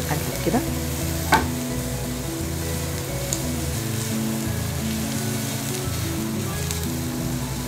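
Peppers sauté in a hot pan, giving a steady crackling sizzle with occasional scraping and clinking as they are stirred, close and continuous.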